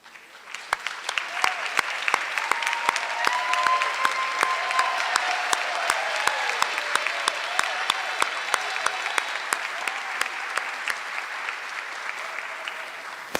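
Steady applause from an audience at an alumnae association annual meeting, honoring standing award recipients; crisp individual claps ring out clearly over a sustained clapping wash, moderately loud and continuous without speech.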